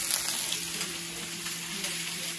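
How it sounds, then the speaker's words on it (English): Vegetables fry in a pan with a steady, close bright sizzle and crackle that holds evenly throughout the short stretch, with no talking. "we got the veggies cooking up here"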